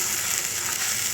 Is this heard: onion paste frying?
yes